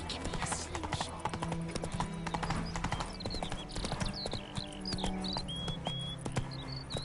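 Horse hooves clip-clopping at a steady trot in The Witcher video game, close and continuous over a bed of chirping crickets and insects, with some faint talk in the background.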